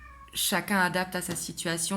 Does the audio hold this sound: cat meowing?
yes